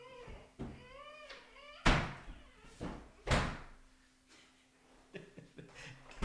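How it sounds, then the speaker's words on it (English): A child knocks and bangs on a home's door, giving a few loud, hollow thumps spaced a second or so apart, with lighter knocks between them and a brief muffled voice near the start. "I got my kid knocking on my door"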